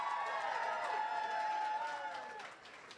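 A crowd of teen campaign committee members at an election night event cheers and whoops at a distance, a sustained, fairly faint swell of voices that fades out toward the end.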